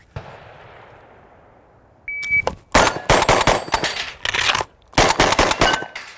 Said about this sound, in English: We're going to shoot the target on the left, shoot 3 on the rack, do a reload, 3 on the rack, and then 1 stop plate.